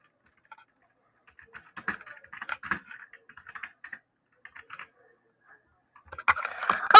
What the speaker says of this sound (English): So I'm gonna type Zia the painter